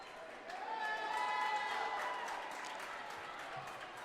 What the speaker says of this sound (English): there was a cheer come up from the crowd